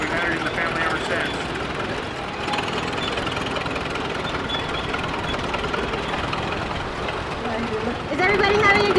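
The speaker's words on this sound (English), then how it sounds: "My family bought this tractor new in 1926, and we've had it in the family ever since." A 1926 antique tractor engine runs with a steady, dense, rough chugging at an outdoor Pioneer Day event, and voices talk over it throughout.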